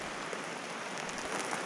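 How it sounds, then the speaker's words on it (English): Rain in the horror video game Verge: Lost Chapter makes a steady, even hiss of falling drops that continues unbroken throughout. "Is this just an overlay? No, it's actual rain."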